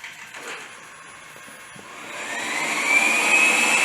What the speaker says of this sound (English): This is Huey, who is Huey the Hoover, our robot Hoover.